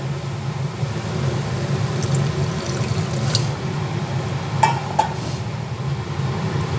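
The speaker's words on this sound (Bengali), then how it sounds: "এরপরে সামান্য পরিমাণে এর মধ্যে জল দেব" Water is poured into a cauliflower malai curry cooking in a pan, making a soft, steady splashing stream under faint background noise with a couple of light clinks near the end.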